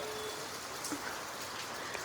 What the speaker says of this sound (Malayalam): ഇവിടെ ഒരു മഴയാണ്. ഇവിടെ എപ്പോഴും ഒരു മഴയാണ്.